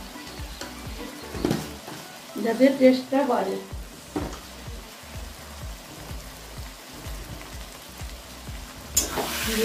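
Taro leaves (kochu shak) fry with a spoonful of roasted spice in a pan, giving a soft sizzle with scattered stirring clicks; someone briefly speaks over the cooking.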